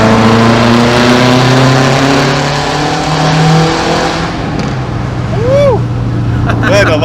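A built Subaru WRX with a turbo engine revs loudly and steadily with a deep, even drone. Near the end, short rising whooshes from the turbo follow, and voices can be heard faintly in the background.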